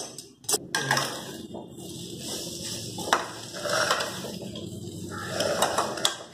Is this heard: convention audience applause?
no